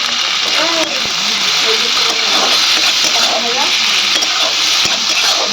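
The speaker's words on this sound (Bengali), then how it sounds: "পেঁয়াজটা আমি হালকা লাল লাল করে একটু ভাজা ভাজা করে নেব।" Onions fry in a pan over low heat, a loud, steady close-up sizzle and hiss with occasional stirring clatter, a voice faintly audible underneath.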